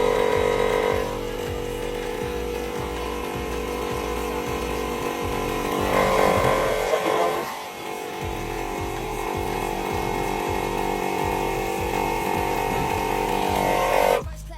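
An air compressor fills the airbag of a Shocker HD Max hitch to lift a trailer, a steady, close mechanical buzz with a rapid pulsing beat that runs unbroken for about fourteen seconds.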